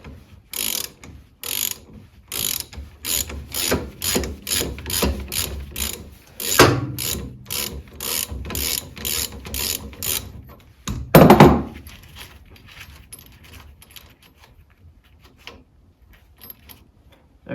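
Ratchet clicks in quick regular bursts while loosening a nut on a 1972 Bolens 1054 tube-frame garden tractor on a workbench, with metallic clunks midway and a louder thunk near the end, then quiet handling.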